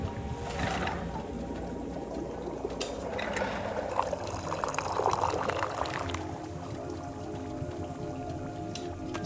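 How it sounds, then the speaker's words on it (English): Liquid pours steadily into a mug in the video game Wanderstop, a soft continuous trickling and splashing stream lasting several seconds at moderate, fairly quiet level, with no voices over it. "It's two perfect pours in a row."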